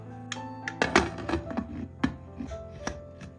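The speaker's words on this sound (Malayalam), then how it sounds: "ഇനി കുക്കർ മൂടി കൊടുക്കാം." A pressure cooker lid is fitted and closed over a plum cake batter with cashews and raisins, making several close metallic clanks and knocks with a brief ringing tone.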